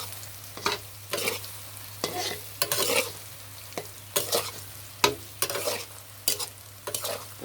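Puffing Kashmiri fritters of atta and moong dal deep-frying in hot oil, a bright crackling sizzle that surges in repeated bursts as they are turned, over a steady low hum, with no talking.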